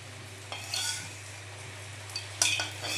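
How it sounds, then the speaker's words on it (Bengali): Chicken pieces frying in hot oil in a home kitchen, a steady soft sizzle with a low hum beneath, broken by a few brief clinks and stirring scrapes. "আমার বোন ফ্রাই করতেছে চিকেন ফ্রাই"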